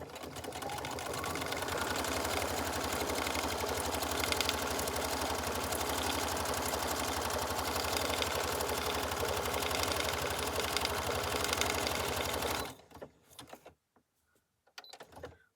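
A sewing machine stitches paper for a waxed envelope, a fast, steady, loud mechanical whir running continuously for most of the time before stopping abruptly, leaving a few faint clicks and handling noises.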